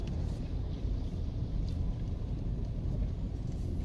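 A car cruises along Dunrobin Park Avenue in Kingston, Jamaica, its engine and road noise forming a steady low rumble throughout, with some wind buffeting but no talk.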